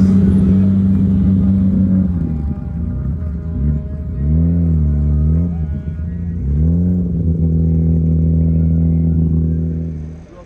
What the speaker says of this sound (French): Les voitures font leur entrée sur le parc du château.